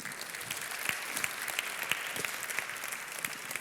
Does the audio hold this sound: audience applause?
yes